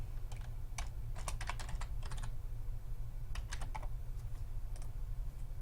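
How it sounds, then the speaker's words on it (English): Close computer keyboard typing as an email address and password go into a login page, quick clicking keystrokes in short clusters with brief gaps, over a constant low hum and no speech. "enter my email, password, click login"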